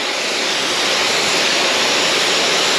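Water sprayed hard onto off-road tires on a Bronco to rinse off cleaner, a loud, steady, close hiss with no break.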